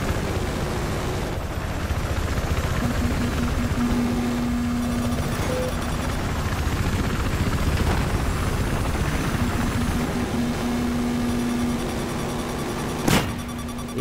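A helicopter in the Battlefield 4 video game drones steadily throughout, loud and constant, with faint tonal game effects and a sharp impact near the end; no speech is heard.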